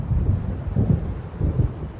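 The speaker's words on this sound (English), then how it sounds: "It seems there's a storm coming" Low thunder rumbles in a stormy night scene in the video game Alan Wake Remastered, with wind and waves; deep rolling swells rise and fall in a few bursts over a constant dark background.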